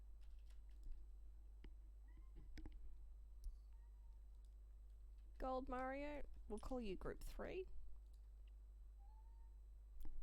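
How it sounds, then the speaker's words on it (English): A house cat meows in two short, drawn-out cries partway through, close to the microphone, while a person talks over keyboard typing and clicking. "It's my needy cat."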